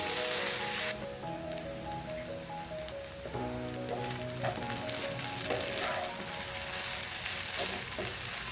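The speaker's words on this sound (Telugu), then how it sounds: "5 మినిట్స్ బాగా వేయించేసుకున్నామంటే రైస్ని బాగా వేగిపోతుంది" Rice frying and sizzling in a pan for spicy chicken fried rice, a steady hiss with scraping stirs and a tonal hum running under it, close and continuous with no talking.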